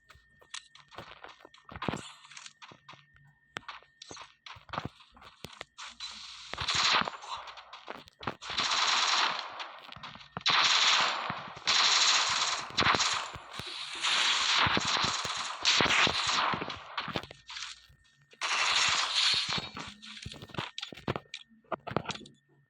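Thompson submachine gun firing in a shooter video game, loud rapid automatic bursts repeating in several long strings, with keyboard clicks in the gaps and no talking.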